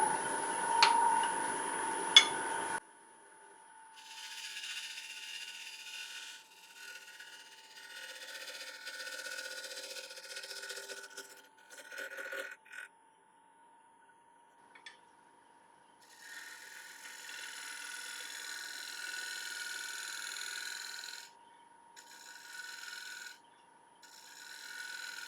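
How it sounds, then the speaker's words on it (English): 1-inch shear scraper cutting a mulberry wood bowl on a lathe, a thin hissing rasp in long stretches broken by pauses, steady and moderately close, after a brief loud burst at the start. "So, little 1-inch shear scraper."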